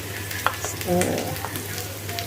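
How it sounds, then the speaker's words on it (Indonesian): A spoon scrapes and stirs cooked garlic and seasoning with mushrooms and egg in a frying pan, giving a soft sizzle with a few brief clinks close by. "Lalu kita aduk dulu biar tercampur terlebih dahulu"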